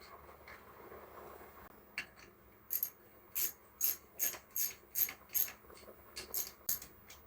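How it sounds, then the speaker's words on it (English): Cover bolts on a Yamaha YZ450F dirt bike are tightened with a ratchet in quick bursts of clicking, about ten short runs in a steady rhythm, close up and clear. "Do them up a little bit at a time till they snug up nice and tight."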